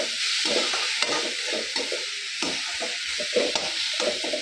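An onion and turmeric mixture, with coriander powder, is stirred in a pan: close, rhythmic spatula scrapes over a soft sizzle, with no voices.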